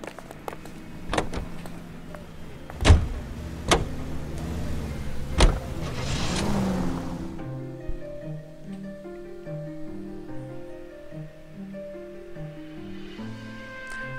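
In the video game L.A. Noire, a car door thumps shut several times and the car then starts moving, its engine humming with steady rising and falling tones, close and moderately loud.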